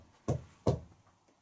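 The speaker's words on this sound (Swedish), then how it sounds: "Knackar en gång till här i väggen." Two sharp knocks on a wall inside an old country shop building, evenly spaced about a third of a second apart, close and fairly loud against a quiet room.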